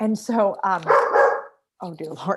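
A household dog lets out a loud, close bark of about half a second during an online school board meeting, overlapping a man's speech, which stops briefly and then resumes.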